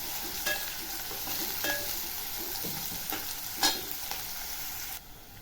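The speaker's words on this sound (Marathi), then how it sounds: "कांदा बघा छान असा फ्राय झालेला आहे।" Onion and curry leaves fry in a pan for an egg, pea and potato curry: a continuous close sizzle with occasional spatula scrapes and one louder clink, then abruptly quieter.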